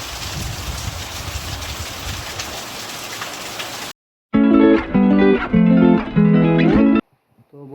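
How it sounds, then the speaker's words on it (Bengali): Heavy rain with stormy wind, a dense, loud, steady downpour on surfaces for about four seconds, cut off abruptly by loud music. "এখানে তো প্রচণ্ড পরিমাণে বৃষ্টি আর ঝোড়ো হাওয়া দিচ্ছে।"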